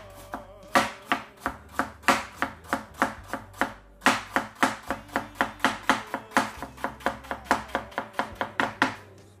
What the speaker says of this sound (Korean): 나머지 것도 한번 썰어 보겠습니다.